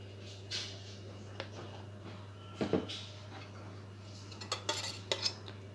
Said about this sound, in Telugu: ఒక స్పూన్ పెరుగు వేసి బాగా కలుపుకోవాలి